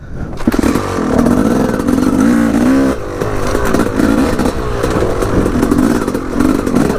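An enduro dirt bike riding training laps, its engine close and loud with a buzzing, fluctuating note that revs up and down continuously, plus some clatter from the terrain.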